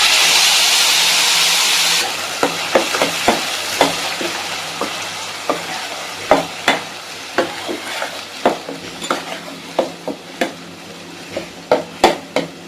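A ground tomato and shallot paste goes into a hot pan for a gravy, with a loud sizzling hiss at first and then steady frying under a string of sharp spatula scrapes and taps against the pan.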